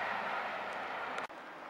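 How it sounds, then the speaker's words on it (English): HST power car 43308, working the Highland Chieftain service from Edinburgh to London King's Cross, passes through Newark North Gate station as a faint, steady rushing rumble with a brief click near the end. "43:308, the Highland Chieftain to London King's Cross from Edinburgh"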